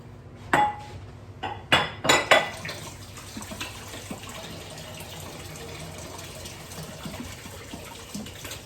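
Hands washed under a running kitchen tap, with a few bright clinks of dishes at first, then a steady, moderately loud hiss of flowing water.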